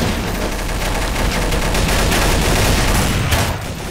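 Video game gunfire as continuous loud automatic bursts, dense and rattling for the whole stretch with no pauses, only a slight drop at the end.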